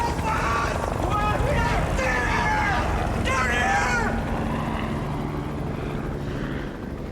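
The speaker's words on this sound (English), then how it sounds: "A search and rescue helicopter has passed within meters of the top of their canyon." A search and rescue helicopter passes over a canyon, its rotor chop and engine drone swelling and then fading under a narrator's voice.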